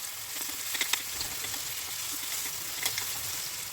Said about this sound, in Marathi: तेलामध्ये व्यवस्थित आपण हे सगळं तळून घेणार आहोत